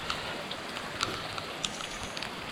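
Rain falls steadily on a flower farm in a soft, even hiss, with scattered louder drops ticking nearby and no one speaking.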